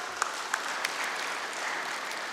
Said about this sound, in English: You need a big round of applause.